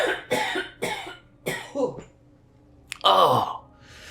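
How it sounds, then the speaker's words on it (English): A sick person's painful cough, a series of harsh close bursts followed by a long rasping, strained cough after a short pause. "This is a very painful and unpleasant cough."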